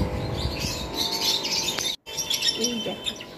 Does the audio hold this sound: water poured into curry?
no